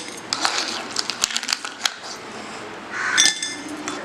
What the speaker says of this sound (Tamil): இப்போ நம்ம வந்து ஒரு கிளாஸ் எடுத்துக்குவோம். நம்ம இந்த ஐஸ் க்யூப்பை நம்ம போட்டுக்குவோம்.